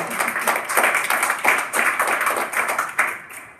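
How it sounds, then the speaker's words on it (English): A keynote audience at a CurePSP event gives themselves a round of applause, with rhythmic clapping that rises and falls in bursts at moderate volume. "give yourselves a round of applause"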